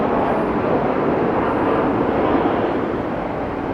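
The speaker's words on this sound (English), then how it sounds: "There's a plane." An airplane passes overhead outdoors, a loud, steady broadband rumble that fills the whole stretch without pause, with no voices.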